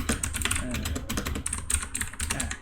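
Rapid clicking keystrokes on a computer keyboard, a dense run of close, crisp taps with a few brief pauses.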